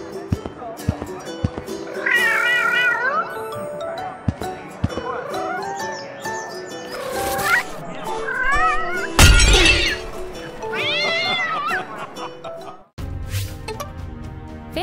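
Domestic cat meows, several drawn-out cartoonish calls over a busy musical background with shifting tones, one sharp crash-like burst midway; fairly loud and close.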